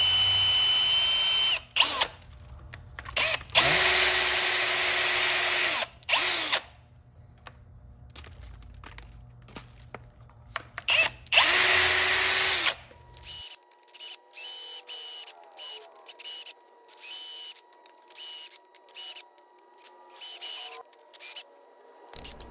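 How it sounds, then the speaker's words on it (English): A power drill whirs in repeated bursts while drilling a ribbon burner forge part, starting and stopping, with shorter, sharper pulses toward the end and brief pauses between them. "drill it."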